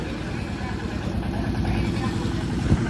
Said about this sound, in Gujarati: હાલો આપણું ટ્રેક્ટર આવી ગયું છે ઘઉં ચોખ્ખા કરવાનું